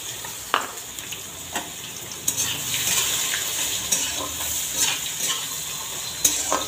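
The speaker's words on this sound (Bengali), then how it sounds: "এবার এখানে পেঁয়াজটাকে একটু ভেজে নেব।" Chopped onions fry in hot oil in a pan, a steady close sizzle with occasional stirring scrapes and light utensil clicks, no voices.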